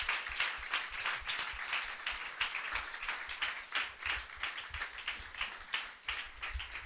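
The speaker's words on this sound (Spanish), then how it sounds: "Dar un aplauso al Señor por la vida de todos ellos." A church congregation applauds steadily, dense overlapping clapping that carries on without a break at a fairly even loudness.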